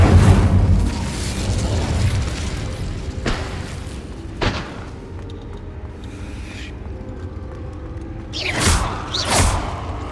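A Confringo explosion spell in Hogwarts Legacy, loud booming blasts: a heavy burst at the start, a few sharp cracks in the middle, then two more strong explosions near the end.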